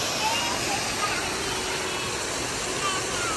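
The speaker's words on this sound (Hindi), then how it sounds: "पहाड़ों से निकलता है वाटर" Mountain water rushes down near Kempty Falls in Mussoorie. The sound is a loud, unbroken, close roar of flowing water that stays even throughout.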